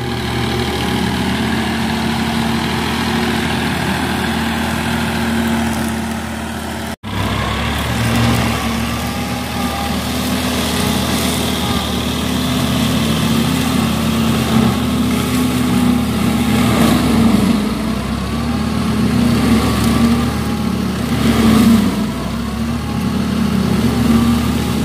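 A Massey Ferguson 9500 tractor runs steadily with a mulcher attached, a loud continuous low engine drone with mechanical whir, a brief dropout near seven seconds, then resuming at the same level without talk.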